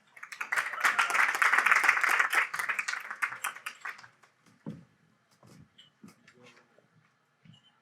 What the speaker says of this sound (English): So give a round of applause for Lesido.